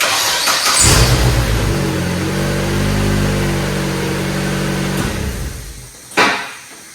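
An Exocet kit car engine cranks and catches, then idles and revs with a deep, even mechanical drone for several seconds before cutting off, followed by a sharp clack like a door or latch.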